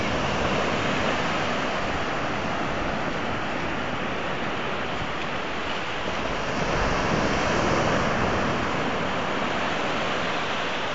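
Big ocean waves surge and break continuously at a Philippine shore where a fisherman works, a loud, steady roar of surf with swelling crashes and wind rush throughout.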